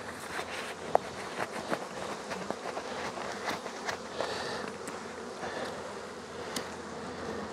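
Honeybees buzz steadily from an opened hive colony, a dense close hum with occasional individual bees passing louder near the listener, plus light handling knocks and rustles.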